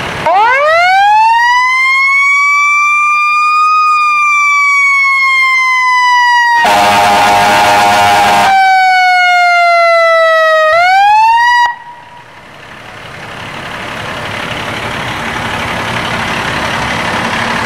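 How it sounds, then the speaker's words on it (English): Loud wailing siren from a new fire truck, its pitch climbing and sweeping, broken by a blast of blaring air horns midway before the siren winds back up and cuts off, leaving a rumbling engine. "I love the horns and siren."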